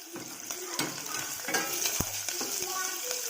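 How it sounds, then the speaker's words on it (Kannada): Onions fry in oil with mustard and cumin seeds, making a quiet, crackling sizzle broken by light scraping stir clicks. "ಸ್ವಲ್ಪ ಸಾಸಿವೆ ಹಾಕಿಕೊಂಡು ಈರುಳ್ಳಿಯನ್ನು ಗೋಲ್ಡನ್ ಫ್ರೈ ಆಗುವವರೆಗೂ ಫ್ರೈ ಮಾಡಿಕೊಳ್ಳಿ"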